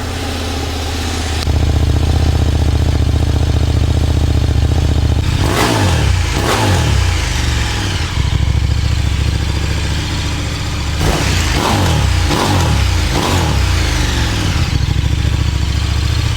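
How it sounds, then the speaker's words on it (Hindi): KTM Super Duke 1390 R motorcycle roars loud and close, its exhaust climbing from a steady idle into several sharp, rising revs in two bursts, each falling back to a rumbling idle between them. "क्या आप लोग सुपर ड्यूक 1390 आर का एग्जॉस्ट नोट सुने हो?"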